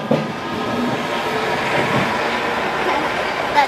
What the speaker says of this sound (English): That train just going away.